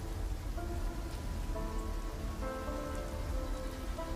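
Steady rain pours down in a continuous dense hiss, with soft patters on surfaces and no pauses, filling the whole stretch evenly.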